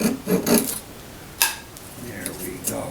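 A hand saw cuts into the wooden body of a Harmony Model 1327 guitar, its edge held above the surface by tape. A few close rasping strokes come early, then one sharp tap and quieter scraping.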